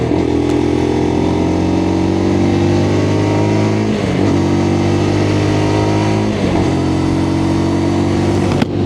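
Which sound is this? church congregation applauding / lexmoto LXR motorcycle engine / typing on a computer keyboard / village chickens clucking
lexmoto LXR motorcycle engine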